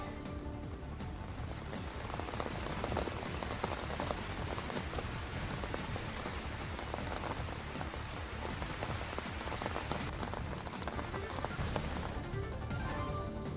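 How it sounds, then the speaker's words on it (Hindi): Heavy rain pours down in Shimla, a dense, steady hiss of drops hitting surfaces that continues unbroken and loud throughout, with no voices. "शिमला में भी बरसे बादल, ताजा बारिश"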